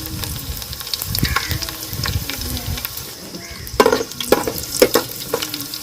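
Cumin and mustard seeds sizzling and popping in hot oil for pepper rasam, close crackling bursts with irregular sharp pops growing busier toward the end, no talk.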